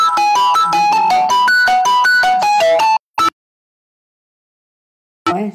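A mobile phone ringtone plays a bright, repeating melodic phrase for about three seconds, with one short note after a pause. A brief rustle follows at the end, with no talk.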